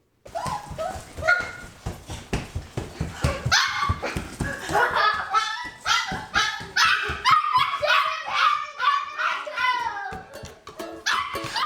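Puppy barking in a home, a string of sharp yips and high whimpering barks that come in quick bursts, close and loud, with music playing underneath.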